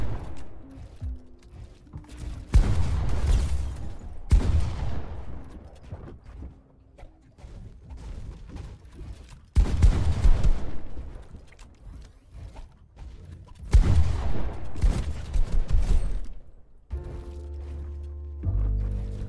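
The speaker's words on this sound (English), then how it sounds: "with a not very nice pump shot and not very nice AR shot" Pump shotgun and assault rifle fire in a Fortnite-style ranked box fight, heard as four loud, sharp bursts that come at intervals and decay into echoing tails, with quieter mechanical clatter in between.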